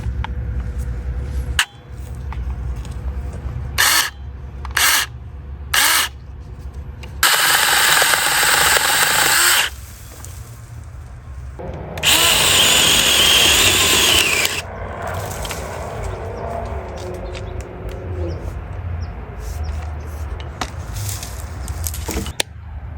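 SEESII battery electric pole saw cutting a tree branch, with intermittent bursts of buzzing motor and chain chewing through wood, stopping and restarting several times at close range.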